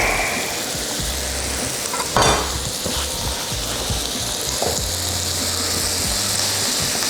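Garlic frying in a pan with butter and mushrooms makes a loud, continuous close sizzle, with a few brief stirring scrapes.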